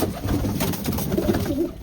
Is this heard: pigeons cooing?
yes